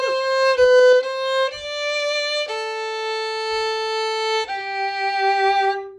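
Solo violin playing the opening of the Pomp and Circumstance melody: a few short notes, then long sustained bowed tones stepping downward, clear and close with no talking.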